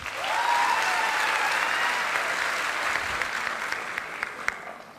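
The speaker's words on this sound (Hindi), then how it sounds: "मैं चाहती हूँ जितेंद्र मौर्य सर के लिए जोरदार तालियां" A large audience at a stage recognition event applauds a guest of honour with steady, sustained clapping that stays full and even for several seconds before thinning slightly, a brief tonal whine sounding at the start.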